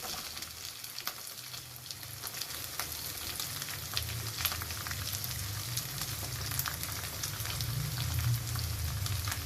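Onion and capsicum fry in a pan with garlic and ginger for a potato chilli dry dish, giving a steady close sizzle that holds at the same level throughout, with faint stirring crackles on top.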